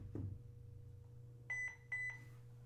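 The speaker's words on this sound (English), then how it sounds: "so we heard the beep" Two short electronic beeps, each a quick double chirp, from a HeimVision HM203 WiFi security camera during setup, sound clearly over a low steady hum in a quiet room.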